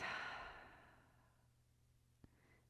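A long sigh-like exhale released through the mouth during a yoga session in butterfly pose, loud at first and slowly fading to quiet, with one small click near the end.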